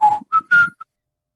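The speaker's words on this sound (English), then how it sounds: "I captured it. And it was this whistle." Three short whistled tones rise in steps, with a tiny fourth chirp at the end, clear and close, recorded on a field recorder in a quiet setting.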